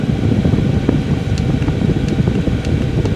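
A cheap diesel heater runs at its hottest setting, giving a steady, even whir and rush of air with faint periodic ticks, continuous throughout and fairly close, with no voices.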